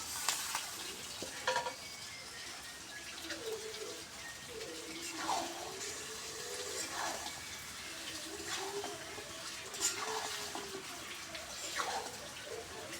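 A steady sizzle of chicken and potatoes frying in a pan, with occasional stirring scrapes and clinks, close and continuous.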